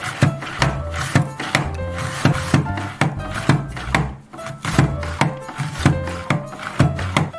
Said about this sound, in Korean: 양파 썰기도 문제 없어요.